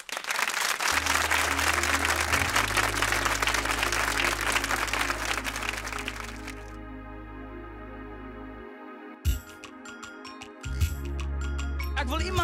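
An audience gives a hearty round of applause for a gospel group at a kykNET Koortjies performance, dense clapping over sustained low music tones that fades out as the music continues.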